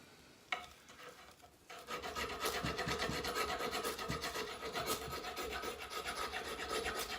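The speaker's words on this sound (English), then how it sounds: "Let's see if the Kukri would scrape this." A kukri knife blade scraping across a surface, a single sharp tap followed by a steady, close rasping scrape that continues rhythmically for several seconds, with no speech.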